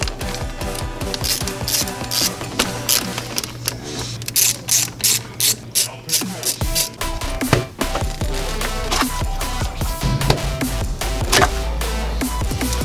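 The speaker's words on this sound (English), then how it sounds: "Now we're going to take a 5mm Allen key and take loose the inlet pipe" Loosening the throttle body inlet pipe on an Alfa Romeo Giulia QV with a 5mm Allen key, a close series of rapid clicking ratchet-like turns and scraping metallic rattles, with brief pauses and bursts of handling noise.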